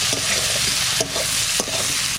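Potatoes fry in a pot for khichuri, giving a steady close sizzle with stirring scrapes and a few sharper clatters, with no one speaking.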